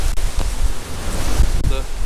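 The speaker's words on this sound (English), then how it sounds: "The flowing water." Flowing water in a cold stream at Three Shires Head near Chrome Hill makes a steady broadband rush, mixed with gusts of wind buffeting the microphone throughout.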